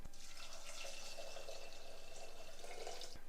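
Water is poured into dal being cooked, a soft, faint trickling and splashing that runs steadily for a few seconds without any talk.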